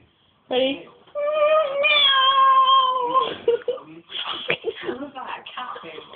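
A voice mimics a cat with a long, wavering meow, followed by muffled mumbling and breathy laughter up close.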